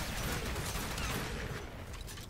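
Dense, loud gunfire from Aklex Prime pistols in the Warframe video game, a continuous crackling barrage of rapid shots that fills the whole short burst without any pause.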